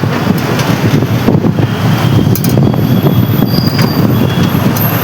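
Train at Kalupur railway station in Ahmedabad, a loud, close, continuous rumble of rolling rail cars with brief high wheel squeals and some wind buffeting the microphone.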